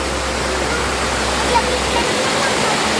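Busay Falls pours in a constant, loud roar of falling water close by, a broad unbroken rushing hiss with no pauses.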